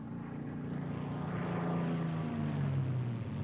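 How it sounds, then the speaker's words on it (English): A P-51 Mustang propeller fighter dives, its engine roar swelling and pitch sliding downward as it rushes past, loud and alone without voices. "Plane gains speed extremely fast in a dive."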